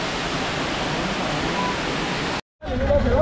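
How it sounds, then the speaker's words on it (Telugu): Abbey Falls in Coorg, a loud continuous roar of falling water heard close, broken by a brief cut before the rushing resumes. "ఫైనల్లీ మనం అబ్బే వాటర్ ఫాల్స్ వచ్చాము."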